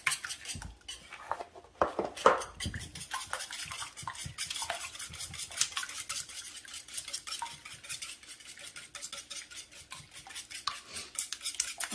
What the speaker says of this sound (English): Just whisk these up.